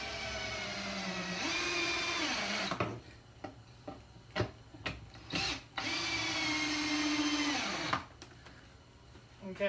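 A power drill drives screws into a wooden bar stool in two long whirring bursts, separated by a pause filled with sharp knocks and taps of handling the wood.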